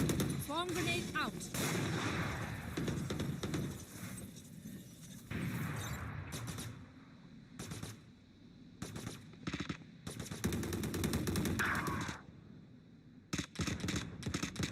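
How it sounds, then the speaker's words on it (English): Heavy video game combat with a swarm grenade going off amid sustained gunfire and explosive bursts, loud and dense with brief gaps between volleys, no clear talking over it. "Swarm grenade out."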